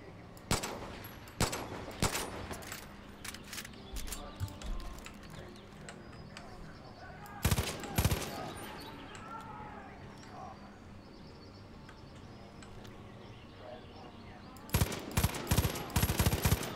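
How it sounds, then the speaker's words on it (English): Sniper shots and rifle fire crack in the video game Far Cry 5, scattered sharp reports at the start and end with a cluster in the middle, set against outdoor ambience with faint bird calls. "I'm getting shot by a sniper, man."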